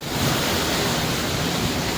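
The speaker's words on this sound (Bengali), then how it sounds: "এত বৃষ্টি পড়ছে" Heavy rain pouring down with wind gusting, a thick unbroken roar of water that stays loud and close from start to finish, without speech.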